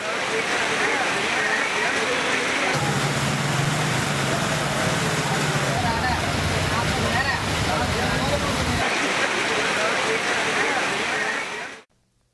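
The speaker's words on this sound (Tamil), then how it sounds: "திருவாரூர் மற்றும் அதன் சுற்றியுள்ள பகுதிகளில் இடியுடன் கூடிய பலத்த மழை பெய்தது." Heavy rain pours steadily over fields in the Tiruvarur area during a thunderstorm, a dense broadband hiss filling the whole stretch, with a low rumbling layer through the middle that may be thunder or wind, until it cuts off abruptly at the end.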